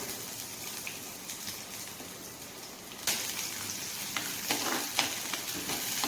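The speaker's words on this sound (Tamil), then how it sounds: "வெங்காயம் நல்லா வதங்கிடுதுங்க." Steady, dense sizzling of onions frying in oil in a pan while cooking Chettinad mutton chukka, crackling throughout and growing a bit louder and busier partway through, with a few sharper pops.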